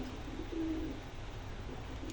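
Male pigeon cooing with a puffed throat, a soft low-pitched coo rising briefly over a faint steady background hum, close but quiet.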